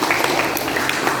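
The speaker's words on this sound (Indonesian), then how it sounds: "Tepuk tangan untuk saudara-saudara kita di Pemalang." An audience applauds the Pemalang delegation at a chess championship results announcement, a dense, continuous wash of clapping filling the short moment.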